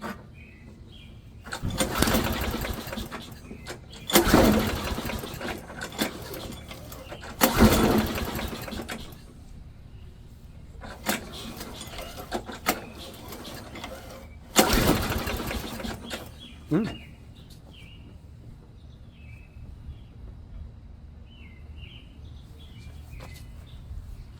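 A lawnmower engine cranks in several loud bursts, sputters briefly and cuts out between attempts, with quiet gaps and faint bird calls outdoors.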